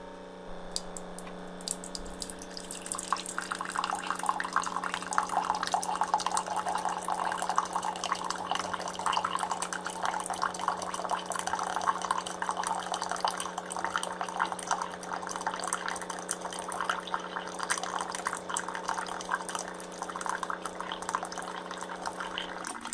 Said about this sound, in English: The hot water is done brewing.